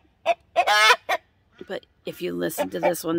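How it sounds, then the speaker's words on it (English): A person speaks briefly, then a hen lets out a loud, drawn-out crowing call close by. "She would crow."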